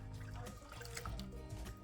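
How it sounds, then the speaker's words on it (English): Water pours into a bowl of pumpkin cake batter that already holds melted butter, a soft steady trickle and dribble of liquid at close range, quiet and unbroken. "And I'm also going to add in the water"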